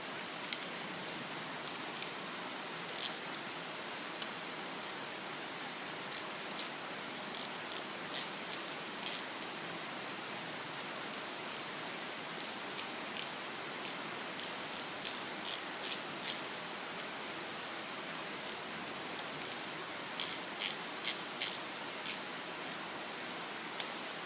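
A ratchet wrench fitted with a 10mm socket working on a lathe, sharp bursts of rapid clicking repeating in short irregular clusters over a quiet background, close and without talk.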